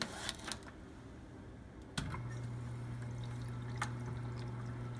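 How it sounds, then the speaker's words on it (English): Water runs steadily into a small dual-chamber mini water softener, a continuous close pour that starts abruptly after a few light clicks and knocks and carries on evenly to the end. "Fill in with water."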